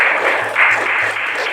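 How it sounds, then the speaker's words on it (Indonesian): Brief applause at the end of a classroom lesson, a dense burst of many hands clapping at once, fairly loud and close, with a faint low hum underneath. "Tepuk tangan untuk kita hari ini."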